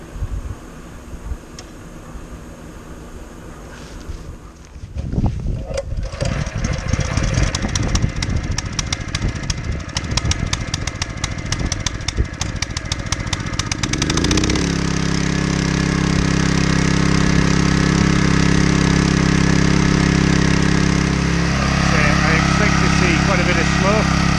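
After a quiet start, a fire pump's small engine sputters and cranks roughly, then catches and settles into a loud, steady running drone.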